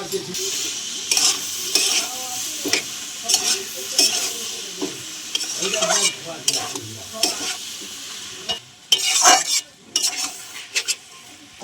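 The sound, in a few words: cabbage and paneer curry sautéing in oil with spices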